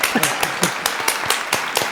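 Crowd applause sound effect played during a podcast chat: a sparse run of distinct claps, fairly close, with voices talking over parts of it.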